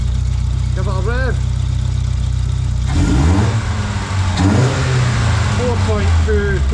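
A Vauxhall Nova 1.6 fuel-injected engine idles, then is revved up sharply around the middle, the pitch rising and falling before settling, with people talking over it.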